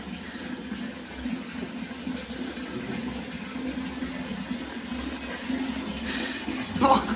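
A newly installed toilet flushing, a steady rush of running water that swells slightly toward the end, heard at close range with faint background voices.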